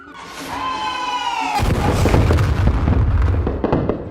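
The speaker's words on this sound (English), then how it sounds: "shoots out a firework illusion spell into the room" A firework illusion spell cast indoors into a bedroom goes off with a sudden loud bang, followed by crackling, rumbling bursts that keep sounding close by, with whistling tones fading beforehand.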